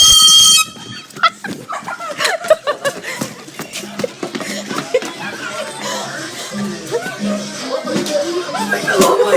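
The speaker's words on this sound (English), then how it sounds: "He's gonna blow an air horn." An air horn blown as a prank in the dark gives one loud, blaring blast at the very start, then cuts off into a noisy commotion of shouting and laughing voices with scuffling.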